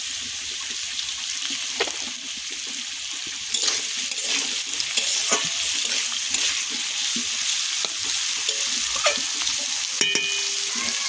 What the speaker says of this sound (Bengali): একটু চাপা দিয়ে ভেজে নেব।